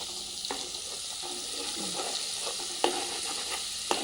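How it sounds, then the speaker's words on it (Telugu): Ginger garlic paste frying in oil in a pan, a constant close hiss and sizzle with a few stirring scrapes and clinks of the spoon, with no talk. "ఇది కొద్దిగా పచ్చి వాసన పోయే వరకే అల్లం ఎల్లిగడ్డ పేస్ట్ మంచి గోలాలి"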